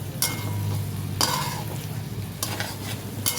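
Cauliflower and potato sautéed in oil in a pan, with a soft continuous sizzle broken by several distinct scraping stirs of a spatula, close and clear with no talking.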